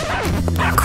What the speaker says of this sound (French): Oh, c'était mon chien.